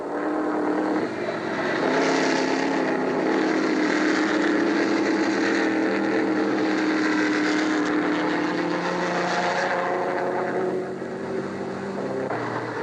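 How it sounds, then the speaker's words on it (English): A steady, throaty roar of old 8-cylinder Formula 1 racing car engines passing nearby, sustained and loud, with a rising and falling drone throughout and no talking. "the sound of those engines, actually so beautiful"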